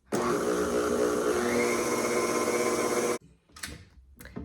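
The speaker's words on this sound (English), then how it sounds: "let's mix up the wet ingredients" Electric mixer whirring steadily as wet ingredients for tangerine chocolate chip cookies are blended, a loud continuous motor drone for about three seconds that cuts off, followed by brief scraping and clatter.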